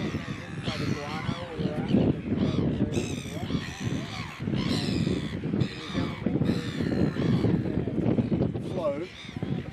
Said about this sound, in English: This is the red, what do you call it? Red-billed gulls.